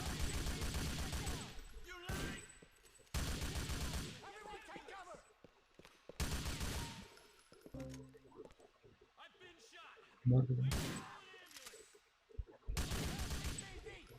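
Bursts of Grand Theft Auto IV gunfire, loud volleys of shots in several spaced clusters, with someone talking between and over them and other game sounds in the background.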